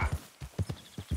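A horse trotting in Red Dead Redemption II, a quick, even clip-clop of hooves in paired beats at close range, with no voices over it.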